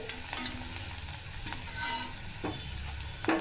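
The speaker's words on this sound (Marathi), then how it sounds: "इथं कांदा छान असं फ्राय होत आला आहे लालसर" Onion frying in oil in a pan, a quiet steady sizzle with a few light stirring scrapes, heard up close with nobody speaking.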